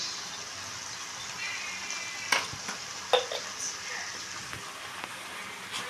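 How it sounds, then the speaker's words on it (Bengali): Spiced ingredients for coriander chicken with cumin powder and salt are being sautéed in a pan, giving a steady soft sizzle with occasional clinks and scrapes of stirring, close by. "এইবারে আমি প্রতিটা জিনিস ভালো করে কষিয়ে নিচ্ছি"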